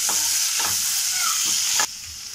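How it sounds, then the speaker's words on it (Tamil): Cashews and green chilli sauté in a hot pan under a steady sizzle, punctuated by several sharp scraping stirs before the frying hiss quiets slightly at the end. "இது கூடவே ஒரு பச்சை மிளகாய் ஃப்ளேவருக்காக ஆட் பண்ணி நல்லா வதக்கிக்கலாம்"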